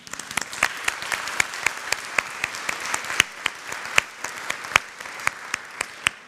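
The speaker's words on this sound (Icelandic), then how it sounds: "Ég vil gefa ykkur gott klapp fyrir það." A church congregation in Lindakirkja claps together during a Sunday service, with sharp, fairly regular hand claps ringing out over a softer background of scattered applause in a reverberant hall.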